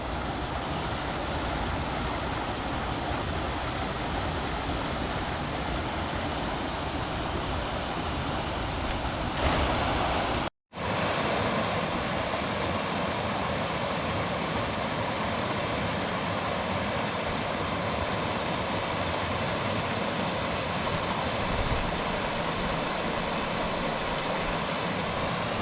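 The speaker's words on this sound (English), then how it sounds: "There are tons of these little waterfalls and cascades all up and down the creek." Small waterfalls and cascades along an Arizona creek near Payson rush in a steady, full hiss of falling water, with a brief dropout midway.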